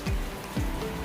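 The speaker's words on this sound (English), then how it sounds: "It's a beautiful rainy day here." Rain patters on the roof of a barbecue shack, a steady diffuse hiss of drops heard from inside, with a few low thumps under it.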